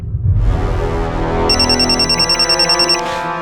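A telephone rings loudly in a rapid trilling burst that stops abruptly, with no voices.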